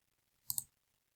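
Two quick mouse clicks in close succession, crisp and near, against an otherwise quiet background at a computer.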